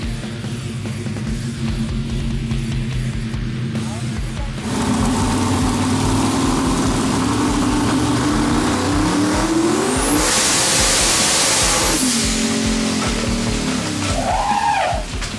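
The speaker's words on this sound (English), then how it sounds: "That's the F-150 lighting up the streets with its V8." A Ford F-150 V8 diesel truck engine revs hard and loud, with a low rumble rising in surges and a high turbo-like whine near the middle before the revs settle.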